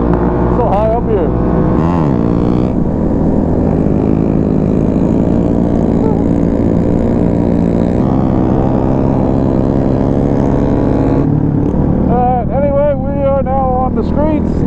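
Honda Grom supermoto motorcycle riding on streets after sunset, its small engine droning steadily and loudly throughout, with pitch rising and falling as it revs, while a rider talks over it.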